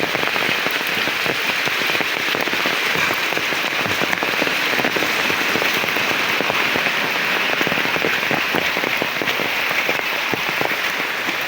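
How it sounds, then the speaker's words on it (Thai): Heavy rain pours without pause during ongoing flash flooding, a dense, loud, even hiss of drops striking surfaces throughout, with no voices. "ฝนตกอยู่ตลอดเวลาครับ"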